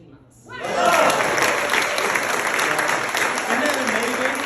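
Audience applause erupts at a weight-loss program presentation, a dense, sustained clatter of many hands clapping that starts abruptly and holds steady and loud throughout.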